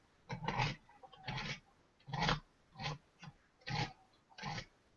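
Serrated metal sculpting kidney, used on its flat edge, scraping a clay sculpture mold: six rough rasping strokes in a steady rhythm, close and fairly loud, with short pauses between them and no talk.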